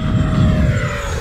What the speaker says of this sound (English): It's a speedy jet. It's a very sporty jet.